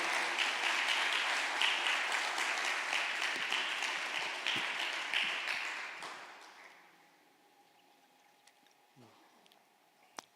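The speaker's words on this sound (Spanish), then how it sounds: "Yo le daría un fuerte aplauso por eso" Audience applause fills a church service, a dense, steady roar of clapping that fades out after about six seconds, leaving near silence with a faint tap at the end.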